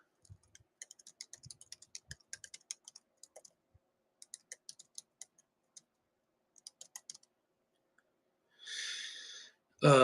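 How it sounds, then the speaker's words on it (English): Someone types on a computer keyboard in short, irregular bursts of quiet, close key clicks separated by pauses, with a brief louder noise near the end. "I'm gonna type that in"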